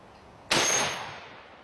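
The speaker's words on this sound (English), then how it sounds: "It's my Henry 4570 Government. Shoots this huge 400 grain bullet." A Henry 45-70 Government rifle nicknamed Thumper fires a 400-grain bullet into a titanium target: one sharp, loud crack with a metallic impact, trailing off in a brief ringing decay.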